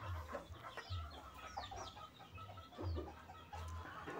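Free-range village chickens in a coop give repeated soft clucks and low brooding murmurs, close and fairly quiet, in an irregular rhythm with no talking.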